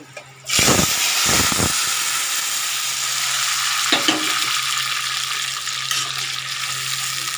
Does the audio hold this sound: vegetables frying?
yes